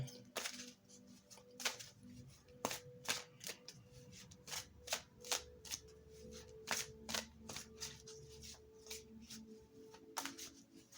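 An oracle card deck being shuffled by hand, a series of crisp riffling bursts in an irregular rhythm, close and fairly quiet, with no voice.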